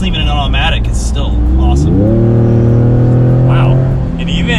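A Ford Raptor pickup truck accelerating hard under full throttle in seventh gear, the loud engine note rising steadily in pitch and then holding a strong droning roar, with wind noise and brief talk early on.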